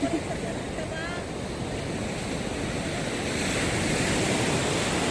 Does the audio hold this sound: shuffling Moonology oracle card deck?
no